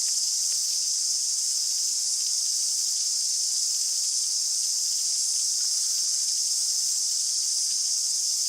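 Cicadas in daytime bush at Marlborough Sound, New Zealand, give a steady, high, buzzing hiss that carries on unbroken and fairly loud, with no voices.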